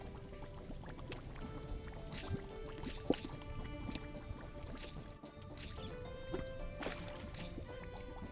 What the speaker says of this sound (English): that was a fish jumping out of the water noise